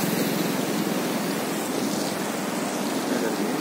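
Floodwater of the swollen Pavana river rushing in a steady, dense roar, loud and continuous with no pauses, heard alone throughout.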